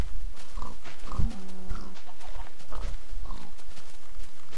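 Pig oinking in the video game Minecraft, a few short nasal grunts close up, with game sounds around them and no speech.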